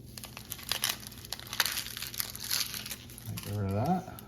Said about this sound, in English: You can peel this outer layer off.